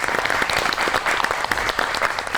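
Dense, lively studio audience applause on a Pakistani TV talk show for guest Javed Sheikh, loud and continuous throughout.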